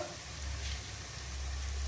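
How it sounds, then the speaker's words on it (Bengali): Vegetables for fried rice frying in a pan, giving a steady, fairly quiet sizzle with soft stirring scrapes throughout, no voices. "আমার সবজিগুলো মোটামুটি ভাজা ভাজা হয়ে গেছে।"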